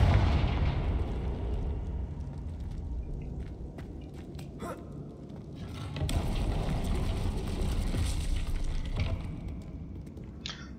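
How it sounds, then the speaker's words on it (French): A fire spell cast in Hogwarts Legacy, heard as a sustained rumbling, crackling burst with sharp transient pops, louder in the second half, alone without talk. "Sort de feu."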